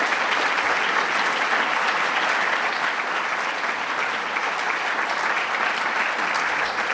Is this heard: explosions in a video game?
no